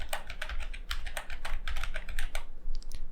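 A computer keyboard typed at close range in a quick, uneven burst of crisp keystrokes while a GitHub API URL is entered. The clicks run continuously, then thin out to a few final taps, with no speech.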